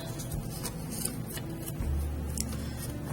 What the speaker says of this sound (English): take your scissors and just cut slits towards the center